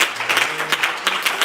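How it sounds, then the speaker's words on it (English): A church congregation standing to give a hand clap of praise: dense, close applause from many hands in a fast, even rhythm, continuous and loud for a moment. "Let us all stand and give the Lord a hand clap of praise."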